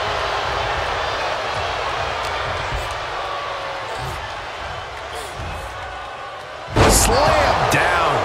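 A wrestler is slammed to the mat in the video game WWE 2K24: a sudden loud impact bursts out near the end, over steady arena crowd noise and ongoing commentary.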